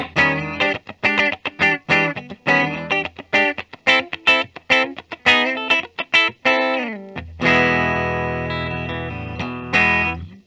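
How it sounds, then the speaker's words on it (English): A 2012 Gibson Les Paul BFG electric guitar with the P90 and humbucker combined plays a run of short, punchy plucked notes and chords, closing on a sustained ringing strum, loud and close with no voices. "But I really like the combination of the P90 and the humbucker together."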